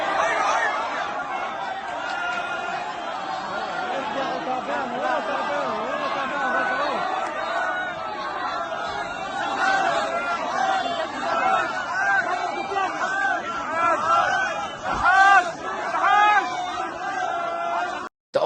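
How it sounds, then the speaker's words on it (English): A large crowd gathered in Khan Yunus during an Israeli hostage release fills the air with dense chatter and shouting, scattered whoops and bellows rising over the steady babble, close and continuous. "his ego was hurt by a large crowd that had gathered in Khan Yunus"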